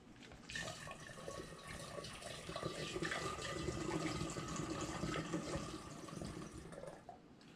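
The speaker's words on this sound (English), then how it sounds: "Now I'll fill this about 1/3 of the way with water." Water pours steadily from a tap into a container for several seconds, a continuous splashing rush that stays fairly loud and even before cutting off near the end.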